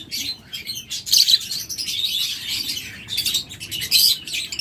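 A pair of cobalt blue opaline budgerigars chirps in rapid, overlapping bursts of high twittering and squeaky calls, close and fairly loud, continuing throughout with no talking.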